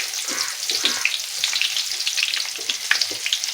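Cumin and chopped onion hit hot oil for a tempering, producing a steady, close, busy sizzle with crackles and spits throughout and no voices.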